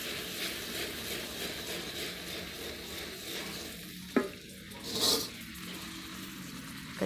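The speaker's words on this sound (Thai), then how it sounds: "เดี๋ยวเราจะเคี่ยวน้ำตาลปี๊บให้มันเป็นคาราเมลก่อนแล้วนะคะ" Steady sizzling and bubbling from palm sugar cooking down to caramel in a hot wok, with occasional scraping and stirring clicks, close up and continuous without talk.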